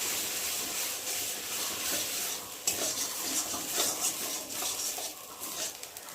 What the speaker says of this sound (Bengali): আর এই যে পাতাটা একটু ভালো করে তুলে ভেজে নিলাম।